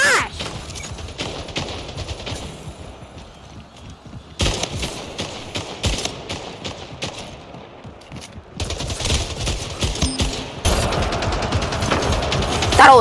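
Rapid bursts of gunfire from a gun in the shooter video game Splitgate, with dense overlapping shots and short pauses between volleys, loud and close throughout.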